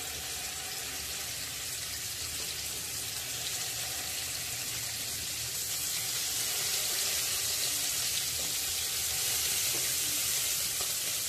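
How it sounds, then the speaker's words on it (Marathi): Marinated mudskipper fish frying on a hot tawa over low gas, giving a continuous even sizzle that swells slightly in the second half, with no voices over it. "तवा तापलेला आहे, आता मी त्यामध्ये निवटी घालून घेत आहे."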